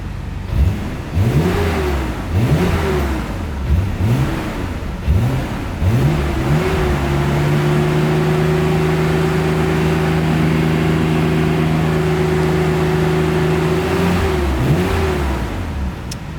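A Nissan Skyline R32 GTR engine running rich before tuning, close and loud, with several sharp revs rising and falling, then a steady held higher idle with a brief blip near the end.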